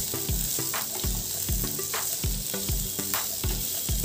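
Roughly chopped medium onions fry in hot oil in a pan, a loud continuous sizzle broken by regular scraping stirs close by.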